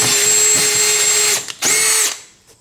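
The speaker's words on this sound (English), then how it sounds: "We're going to go ahead and start drilling these holes." A power drill bores mounting holes for a Minn Kota DH 40 electric anchor, using a 5/16 bit through aluminum and wood, with two loud sustained whining bursts split by a short pause before spinning down.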